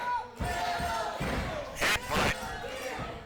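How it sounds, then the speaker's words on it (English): Crowd cheering at an indoor independent wrestling event in Escanaba, loud roaring bursts mixed with heavy ring thuds and slams, with an announcer calling over it. "this big crowd in Escanaba here is fired up behind Ghetto Gear Solid"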